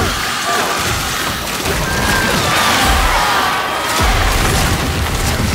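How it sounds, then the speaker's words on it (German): A loud, dense explosion roars in the video game Blacktail, with crashing rumble and debris sounds filling the scene, then a second burst near the end. "Was für eine Explosion, bitte."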